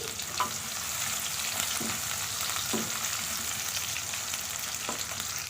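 Two medium sliced onions sizzle steadily in hot oil in a pan, a constant bright frying hiss broken by a few soft stirring scrapes, close and without speech, while cooking for a moong dal tadka.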